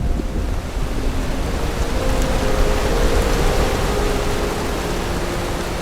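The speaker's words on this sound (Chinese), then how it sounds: "雨水就像捅破了的袋子，噼里啪啦地打在头顶的叶子上。" Rain pours onto the leaves overhead in a dense forest, a steady, loud hissing patter that swells slightly midway and carries on evenly, with no voices.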